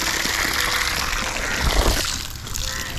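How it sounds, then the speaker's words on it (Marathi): Water pours and splashes into potted ornamental plants at a Konkan village home, as a continuous close gushing and trickling with a brief heavier splash partway through. "चला, सगळीकडे पाणी घाल,"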